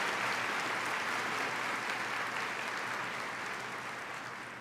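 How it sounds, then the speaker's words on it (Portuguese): A congregation applauds at a talk by a Catholic nun, dense even clapping that holds steady and then slowly fades toward the end, with no talking over it. "Mas pode aplaudir."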